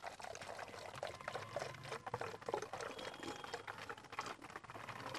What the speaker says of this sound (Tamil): அதுக்கடுத்து இதில் வந்து தண்ணி வந்து ஆட் பண்ணிக்கலாம் நம்ம.